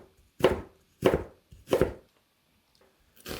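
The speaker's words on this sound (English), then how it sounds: "For the carrot, cut it into thin strips." Knife slicing through a carrot on a cutting board for Korean japchae, four distinct crisp chops spaced roughly evenly and heard up close without any talk.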